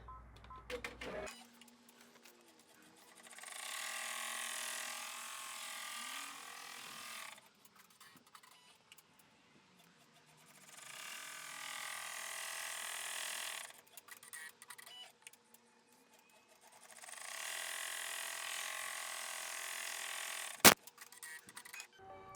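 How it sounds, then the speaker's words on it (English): An embroidery machine stitching out placement boxes for an in-the-hoop three-piece animal key chain, heard as three long runs of rapid, steady mechanical stitching with quieter pauses between, plus a sharp click near the end. "I'm going to put my hoop in the machine, and I'm going to sew out."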